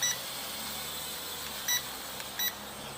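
Three short, high electronic beeps sound from an Eachine E58 drone's handheld controller as its speed setting changes, faint over steady outdoor background noise.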